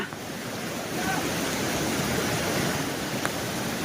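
Fast water of the Ojat river rushes through a breached embankment during heavy Gujarat rain, a steady, dense roar that fills the scene with no voices.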